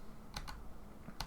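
A few sharp, quick clicks of computer keys typed close by, in two short bursts over a quiet room hush, faint overall.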